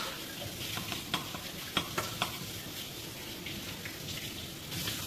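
Spice masala for Bengali rui fish kalia being sautéed in a pan: a steady sizzle with scraping stirs and a few sharp spatula clicks, moderately close and without talk.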